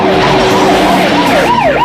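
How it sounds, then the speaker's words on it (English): An emergency vehicle siren wails close and loud, its pitch sweeping up and down in steady cycles over a low engine rumble. "Hit the siren."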